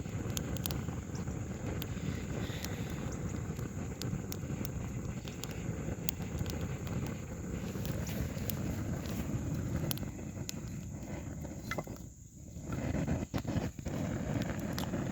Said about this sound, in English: Y'all can see and hear how this wind's blowing this fire.